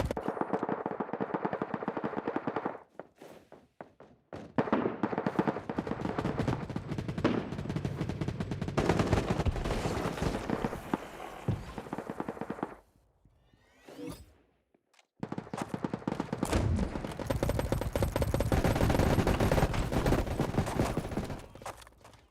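Sustained automatic gunfire in the mobile shooter Battle Prime, loud rattling bursts that run for long stretches, broken by two short quiet gaps before firing resumes, with no talking.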